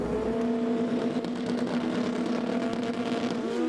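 Super street bikes at a European FIM drag racing final scream off the start line, a loud, sustained high engine whine with shifting pitch tones, heard steadily without pause.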